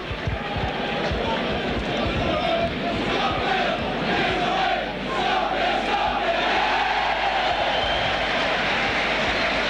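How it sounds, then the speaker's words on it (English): Rugby league crowd at Headingley, Leeds, in 1987, a dense roaring and chanting mass of voices filling the stadium, loud and sustained, with a commentator's voice mixed in. "That's got the crowd singing here at Headingley."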